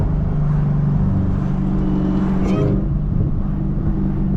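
A manual Chevrolet Camaro ZL1 under way, its supercharged engine holding a steady droning tone with a thin whine riding on top and a brief rising sweep near the middle. The sound is close and continuous, with no one talking.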